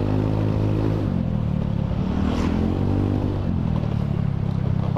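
Honda Beat FI scooter-style motorcycle engine droning steadily with rising revs as it accelerates on a road past a busy Sunday market, loud and close throughout with a continuous low hum.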